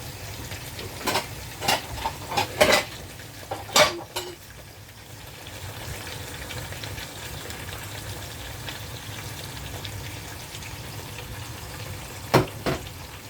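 Pork frying and simmering in a pan, a steady low sizzle running throughout, with a few sharp utensil clicks and stirring scrapes near the start and again near the end.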